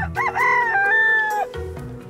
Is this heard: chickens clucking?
yes